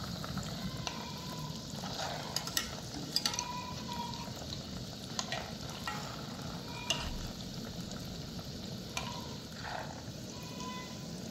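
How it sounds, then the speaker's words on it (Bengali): Semolina sweets sizzle steadily in hot oil in a pan. The crackle is soft and constant, and there are occasional scraping clicks as the pieces are turned over. "এবার আমি উল্টে পাল্টে ভেজে নেব।"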